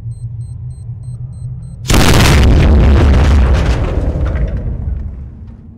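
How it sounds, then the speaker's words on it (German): A low hum, then a sudden loud C4 explosion in Zompiercer bursts in, its deep rumble and crackling debris slowly fading away. "Lasst uns die geile Explosion angucken"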